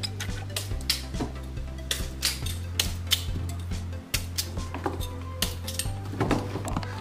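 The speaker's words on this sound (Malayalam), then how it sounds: "കപ്പ നമ്മൾ ചെറുതാക്കി കൊത്തി നുറുക്കി." Tapioca is chopped into small pieces with a knife in a series of sharp, irregular chops that land roughly every half second, over a low steady hum.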